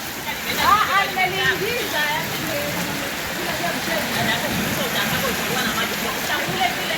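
Heavy rain in Arusha sends floodwater pouring into homes and shops, a steady rushing wash of water. Voices and splashes break in early, and the flow stays constant afterward.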